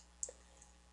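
A single computer mouse click during CAD sketching in SolidWorks, faint and brief, with a second softer tick shortly after, in a quiet room.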